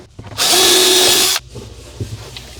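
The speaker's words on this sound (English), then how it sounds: "I'm going to use the this pre-drill bit here, countersink bit" A power drill with a countersink pilot bit boring into maple wood, one loud whirring burst lasting about a second, followed by faint handling knocks.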